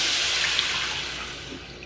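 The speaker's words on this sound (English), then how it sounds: "I'm gonna slowly pour in our water" Water pours slowly into a one-pot pasta pan for an Alfredo sauce, a close, steady splashing gush that gradually softens over about two seconds.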